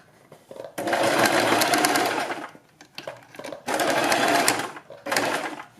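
A domestic sewing machine stitches fabric for a blouse neck design in three loud, steady bursts of motor whir, separated by brief pauses.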